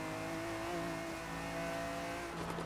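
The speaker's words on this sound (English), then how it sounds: "Sounds like a V12 Ferrari engine" A Ferrari V12 engine in the Forza Horizon 3 racing game holds a steady, loud, near drone with sustained harmonic tones, rising slightly near the end, with no talk over it.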